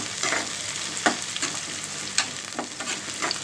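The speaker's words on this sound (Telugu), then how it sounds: "నూనె వేసుకొని ఒక ఉల్లిగడ్డ, ఒక రెమ్మ కరివేపాకు, ప్లస్ పచ్చిమిరపకాయలు ఒక 2-3 అండి చీలికలు చేసి వేసుకున్నాను" Onion, curry leaves and slit green chillies fry in oil in a kadai, a steady crackling sizzle punctuated by several sharp stirring scrapes and pops, close and moderately loud, with no voices.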